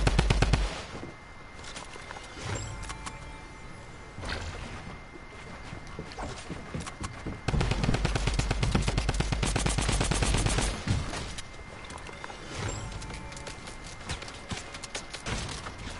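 Sustained automatic gunfire in a shooter video game, long rattling bursts at steady volume with brief pauses and a louder stretch of continuous fire near the middle.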